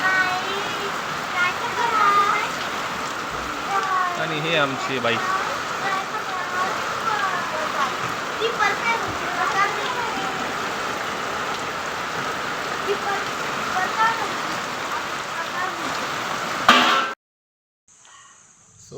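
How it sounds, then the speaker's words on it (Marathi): Heavy rain pours down in Jalna, India, as a steady, dense hiss that runs nearly the whole time beneath people talking, then cuts off abruptly near the end. "जोरात पाऊस होतोय बघा जालन्यामध्ये आमच्या"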